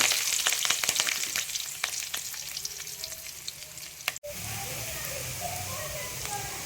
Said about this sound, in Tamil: எண்ணெய் காஞ்சிருச்சு, கடுகு போட்டாச்சு. நெக்ஸ்ட்டு வந்து வெங்காயம், பச்சை மிளகாய்.